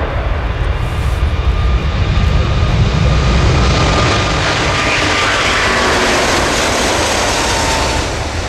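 Large aircraft taking off at the Farnborough airshow, a loud, broad jet roar that swells early and then rumbles steadily on with a slow shifting whine, no talking over it.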